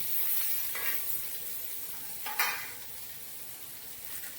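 Garlic and leaves sizzling and frying in a pan for a mirchi thecha, a steady hiss with a few louder crackling bursts and faint stirring.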